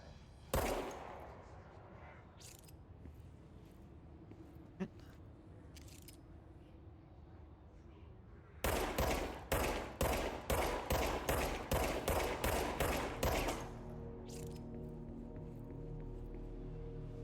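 A gun fires in the video game Control, first a few scattered single shots, then a rapid string of about ten loud evenly spaced bursts, followed by a lingering low hum.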